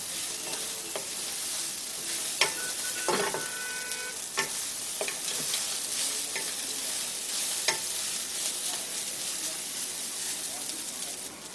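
Egg and peanuts cooking in chira pulao (flattened rice) in a pan, heard as a continuous close sizzle with repeated spatula scrapes and taps as it is stirred; a voice may be faintly present.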